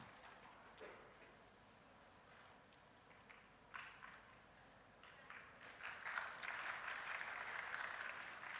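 An audience at a patent and intellectual property workshop applauds a speaker; faint, distant clapping starts scattered and swells into a fuller round toward the end.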